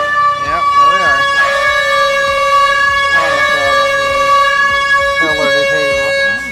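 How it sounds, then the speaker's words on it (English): Air horn blasts set off as a livestream alert, a loud sustained blaring tone pulsing in several bursts, with a person talking underneath throughout. "no thanks for the air horns that are about to occur"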